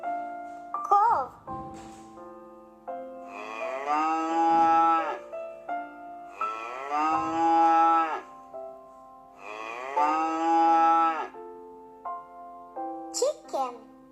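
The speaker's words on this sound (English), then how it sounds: "Cow." A cow gives three long, loud moos, evenly spaced, over a soft musical backing, with brief higher sounds between them.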